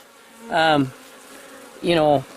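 Honeybees buzz close by around hives in an apiary, two loud droning passes swelling and fading over a steady low hum of the colony.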